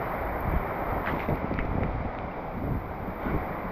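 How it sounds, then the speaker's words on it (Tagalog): Typhoon Uwan in the Philippines, with floodwater overflowing into a house: continuous hissing wind and heavy rain noise fill the clip at a steady level, with a constant roar and faint scattered clatter. "Grabe po, lakas ng ulan. Hangin."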